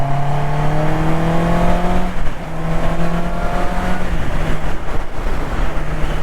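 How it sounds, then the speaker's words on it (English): A Honda CB650R motorcycle engine while riding, giving a loud, steady, close-up four-cylinder whine that rises in pitch, drops briefly at gear changes and climbs again, with no talking. "I've got the visor up so you can hear the engine."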